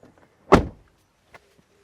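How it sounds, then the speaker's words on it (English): A door shuts with one solid, close thunk, followed by a faint click and quiet afterward. "close the door"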